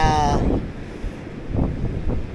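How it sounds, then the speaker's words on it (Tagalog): Strong coastal wind at Banbanan, Dapitan City, buffets the microphone in heavy, rumbling gusts, with a brief tonal sound at the start and the wash of large waves beneath. "malakas yung hangin"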